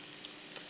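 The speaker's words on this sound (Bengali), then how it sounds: "এটাকে আমি এবারে একটু গোল্ডেন কালার করে ভেজে নেব।" Onions sizzle steadily in a hot pan as they fry toward a light golden colour, a soft continuous crackle with no voices over it.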